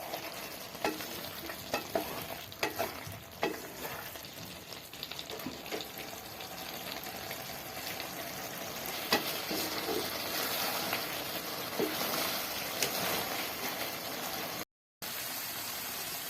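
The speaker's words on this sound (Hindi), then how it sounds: "अब इसको थोड़ा सा भून लेंगे।" Aloo baingan, potatoes and eggplant in a tangy tamarind masala, frying and being stirred in an oily pan, with a steady close sizzle and repeated scraping stirs, no talk.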